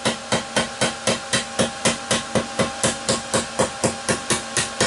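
A metal dustpan bottom being hammered flat, a loud close series of about twenty even, rapid metallic strikes at a steady rhythm.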